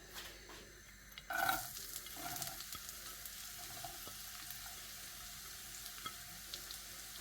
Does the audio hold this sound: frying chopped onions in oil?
yes